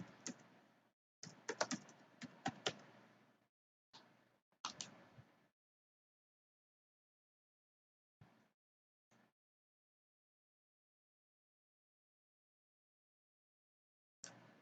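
Typing a username and password on a computer keyboard during a Kali Linux login: short bursts of close, quiet key clicks with long silent pauses between, then a few isolated taps, with no voices.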